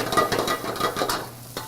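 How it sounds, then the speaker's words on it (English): Peppers stir-fried in frying oil in a pan, a soft sizzle under repeated scraping and stirring strokes with faint utensil clinks, close and steady for a moment. "Pepper's gonna go in, then you're gonna saute it. Stir fry."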